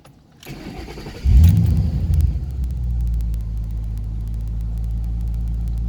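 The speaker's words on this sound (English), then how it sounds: "let's listen to her start up." A 2007 Ford Mustang GT V8 with Flowmaster exhaust starts up, heard from inside the car with the windows down: a short starter crank, a loud rev as it catches, then a steady, deep, throaty idle rumble.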